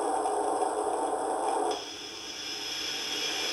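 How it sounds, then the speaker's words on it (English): A MamaRoo baby swing speaker plays a steady hiss of white noise, the tone shifting midway as the setting changes, then continuing as an even, moderately loud static wash. "I think that's white noise."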